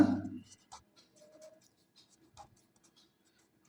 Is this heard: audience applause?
no